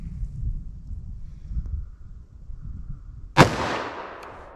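A single loud revolver gunshot from a .357 Magnum fired single action during an outdoor ballistic velocity test, one sharp crack with a decaying echo after quiet wind and rustle.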